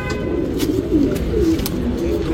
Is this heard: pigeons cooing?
yes